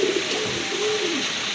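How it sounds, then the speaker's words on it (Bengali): A pair of pigeons coo close by in soft, low rolling phrases over steady background hiss, with no voices. "খুবই সুন্দর এক জোড়া কবুতর"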